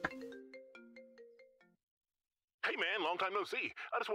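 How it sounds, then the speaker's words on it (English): A melodic electronic phone ringtone in a video game chimes a quick descending run of tones for under two seconds, then silence, followed by a person talking. "There's a phone."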